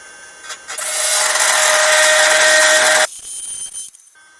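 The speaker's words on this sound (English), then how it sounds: "I'm just going to grind these rivets off at the back." An oscillating multi-tool grinding rivets off a window regulator inside a Skoda Fabia Mk1 front door, a harsh, steady high-pitched buzzing grind held for a few seconds, close up, then an abrupt shift and stop.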